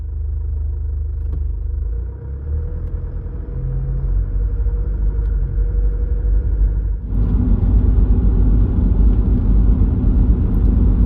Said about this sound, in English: We'll now go for a 10 to 15 minute drive so that the car can successfully finish the DPF regeneration.